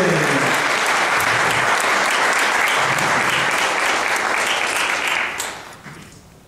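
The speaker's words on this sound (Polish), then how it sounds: "Jeszcze raz brawo, Agnieszka Sypień." Sustained applause from an audience at a presidential sports achievement award ceremony, loud and steady for about five seconds before tapering off quickly.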